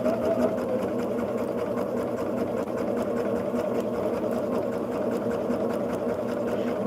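A sewing machine stitches quilt pieces in a continuous steady whir that stays close and even throughout, with no talking.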